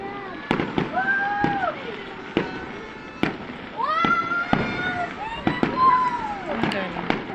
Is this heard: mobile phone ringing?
no